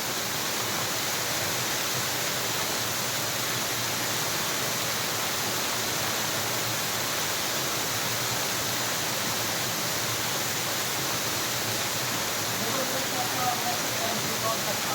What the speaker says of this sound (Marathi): मी गडद धबधब्याचा आनंद घेण्यासाठी धबधब्याच्या मध्ये जात आहे